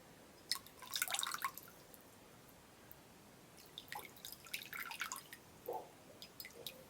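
Warm water drips and squishes from a soaked cotton wool pad in quiet, close bursts, with a few soft wet patters spaced across a hushed background.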